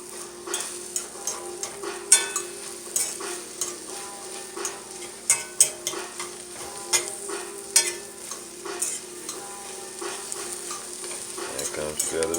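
Scrambled eggs are stirred in a well-seasoned cast iron skillet, with regular scraping strokes of a utensil against the pan over a quiet, steady sizzle.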